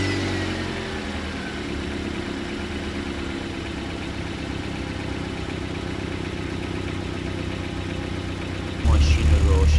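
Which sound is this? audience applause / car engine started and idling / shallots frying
car engine started and idling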